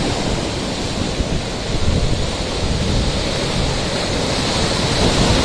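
Heavy surf roars continuously, a dense wash of crashing waves with gusty wind buffeting the microphone throughout.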